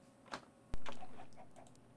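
Chickens in the video game Minecraft, a couple of brief clucks against a faint hum: one soft cluck, then a sharper, louder one that fades out over about a second.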